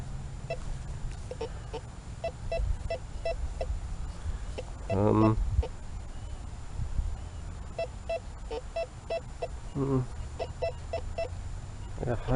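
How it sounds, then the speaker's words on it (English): Metal detector tones, a short high beep alongside a lower beep, sound in repeated quick bursts over an outdoor background, with brief warbling blips standing out now and then. "I got high beep, but I got a bit of a low beep."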